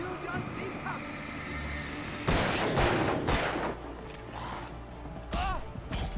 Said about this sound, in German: Jeder dritte Schuss trifft bei ihm.